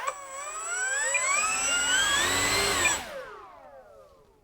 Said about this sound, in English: listen to this 3S brushless motor rip